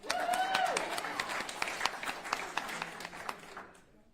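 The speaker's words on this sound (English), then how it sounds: "Give her another round of applause, folks." A crowd at a school voucher protest applauds with dense clapping that starts strong, then thins and fades out near the end, with a whoop over the start.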